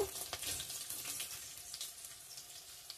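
Panch phoron hits hot oil in a kadai already holding onion, dried red chilli and bay leaf, giving a quiet but busy crackling sizzle that fades slightly as it settles, with no speech.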